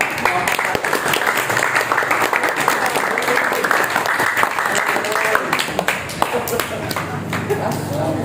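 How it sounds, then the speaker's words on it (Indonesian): Students in an engine management system class applaud a group, a burst of quick, dense hand clapping that fills the room for several seconds, with some voices mixed in near the end. "Kita beri aplaus untuk"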